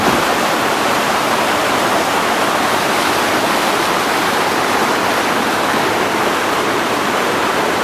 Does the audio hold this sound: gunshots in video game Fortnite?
no